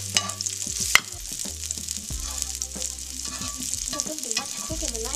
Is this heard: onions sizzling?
yes